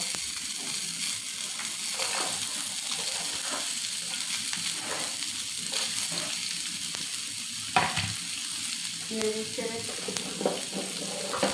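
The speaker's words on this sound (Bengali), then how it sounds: "আগে রসুন পেঁয়াজগুলো একটু ভেজে নেব" Garlic and onions frying in a little oil in a pan, a continuous close sizzle with light scraping from stirring and a few sharper crackles.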